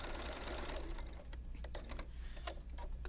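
A sewing machine stitches a fabric zipper bag, its needle running in a rapid mechanical whir up close, then slowing into a few separate clicks and taps, with no one talking.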